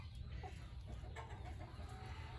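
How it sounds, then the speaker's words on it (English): A lavender Orpington rooster in a backyard pen with his hens makes soft, low clucking sounds, quiet and close over a steady background hum, with no talking. "There's my big beautiful rooster."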